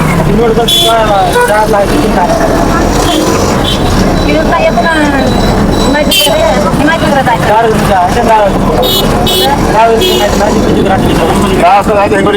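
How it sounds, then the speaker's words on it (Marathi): Busy road traffic in Nanded city rumbles continuously with engine drone and passing vehicles, loud and close, while people talk throughout over it. "बघू शकता मित्रांनो आपल्या नांदेडमध्ये ट्रॅफिक"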